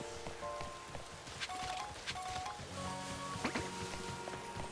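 Steady rain falling in Pokémon Legends: Z-A, a dense patter of drops on surfaces with faint scattered clicks and soft tonal game sounds underneath, low and continuous throughout.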